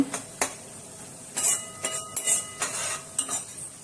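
Red spice masala stirred into hot oil in a pan, with repeated metallic spoon scrapes and clinks against the pan over a faint sizzle.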